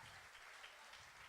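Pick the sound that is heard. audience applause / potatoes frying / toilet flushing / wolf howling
audience applause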